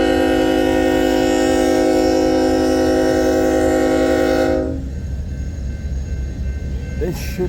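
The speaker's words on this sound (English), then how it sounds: "we have an eastbound on the Crescent Sub that's going to swing north, going to Council Bluffs" An eastbound freight train on the Crescent Sub sounds a loud, sustained multi-tone horn nearby that cuts off abruptly, leaving the rumble and rattle of rolling rail cars.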